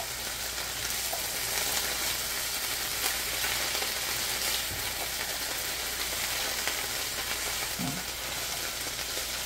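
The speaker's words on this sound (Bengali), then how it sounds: "আমি মাঝারি আঁচে শাকটাকে 3 মিনিট মতো ভাজব।" Bok choy greens fry in a pan over medium heat, giving a steady, broad sizzle that holds at an even level throughout, with a faint scrape or two and no voices.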